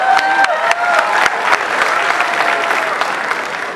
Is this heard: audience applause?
yes